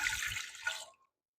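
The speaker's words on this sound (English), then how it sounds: "I am going to add 2 cups of warm water." Warm water pours steadily for under a second, splashing into a bowl, then stops abruptly into silence.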